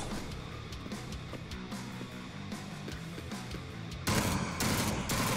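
Enemy gunfire in the sci-fi roguelike shooter Jupiter Hell: steady, rapid mid-volume shots rattle on for several seconds, then a louder, harsher burst of firing takes over near the end, with no voices.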